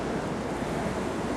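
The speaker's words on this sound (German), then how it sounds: "ich möchte das Meer, das tosende Meer da ein bisschen näher zeigen" Roaring sea waves on the coast of Malta: a steady, loud, close wash of surf that continues without break, with some wind noise mixed in.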